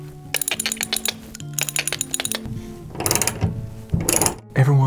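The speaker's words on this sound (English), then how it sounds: "Use your friend, the ratchet, to finish the job." A ratchet tightens lag bolts for a TV wall mount, giving bursts of rapid clicking ratchet strokes in short loud runs, then scraping and rustling near the end.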